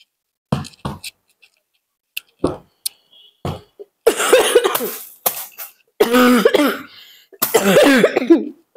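A person coughs hard at close range, starting with a few short separate coughs and building into longer, rasping coughing fits.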